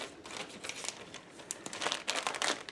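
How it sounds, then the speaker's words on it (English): Plastic bag crinkling as excess sugar paste is pushed back inside, a close, soft, irregular rustle with brighter crackles toward the end. "I'm going to pop my excess paste back into the bag."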